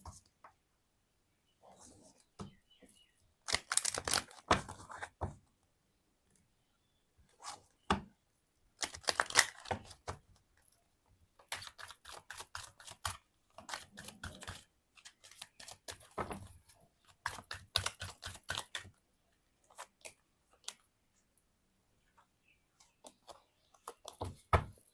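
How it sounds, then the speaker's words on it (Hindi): Tarot cards are shuffled in scattered bursts of quick, soft riffling clicks and flutters, separated by brief pauses, close by and fairly quiet. "सबसे पहले मैं कार्ड शफल कर लेती हूँ।"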